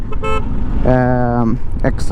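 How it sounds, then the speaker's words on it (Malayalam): A loud, steady electric horn blast of about half a second with a bright buzzing tone, preceded by a short toot and followed by a faint brief honk, from aftermarket electric horns fitted to a Bajaj Dominar 400 motorcycle. "രണ്ട് ഹോൺ ഇലക്ട്രിക് ഹോൺ തന്നെയാണ് ഡൊമിനാറിൻ്റെ സ്റ്റോക്ക് ഹോണല്ല"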